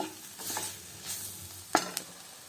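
Ingredients for a broad bean curry frying in a hot pan, a quiet sizzle broken by a few close spatula scrapes and one sharp clink against the pan, with no voices.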